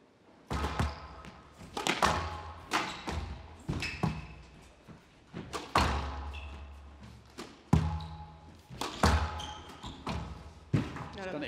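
A squash ball is struck by rackets and bounces off the walls in a men's quarter-final at the 2022 British Open, sharp irregular thwacks and thuds in a rally, with a commentator speaking between them.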